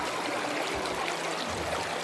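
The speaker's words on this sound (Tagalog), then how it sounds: "Ilog. Running water." A mountain river at Daraitan rushes steadily, a continuous close wash of flowing water with light gurgling and no talk.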